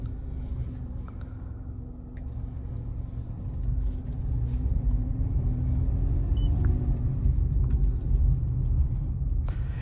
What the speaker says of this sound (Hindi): स्टार्ट कर लिया हमने कार, अभी पेट्रोल पे स्टार्ट हुई है, थोड़ी देर बाद ऑटोमेटिकली CNG पे कन्वर्ट हो जाएगी।